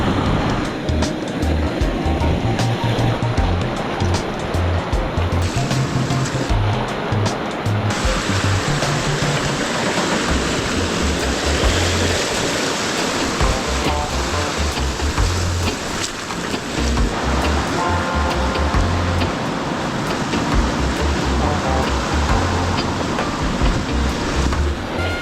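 Caribbean ocean waves surge and crash against the coast in a loud, continuous roar of surf and churning water, heard up close with no one talking.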